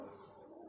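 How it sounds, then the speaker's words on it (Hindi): A Teddy pigeon gives a short, soft coo, a single brief low throaty call close by. "ये भी टैडी कबूतर है"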